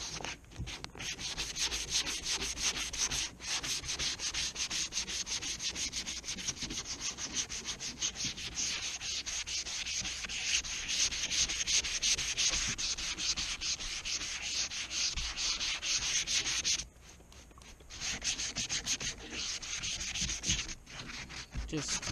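Rear spoiler of a Saab C900 being hand-sanded smooth: a steady, close, scratchy rubbing that runs continuously, with a brief pause near the end before the strokes resume.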